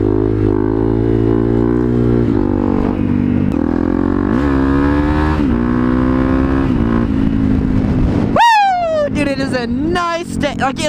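A motorcycle revs hard in cold winter weather while wheelies are ridden, a loud, close engine with rising and falling pitch that climbs to sharp, high-revving bursts near the end.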